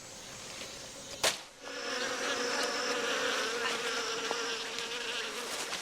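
Insects buzz steadily nearby, a continuous droning hum of wasps at an ant nest in the jungle after a sharp brief knock, with no voices.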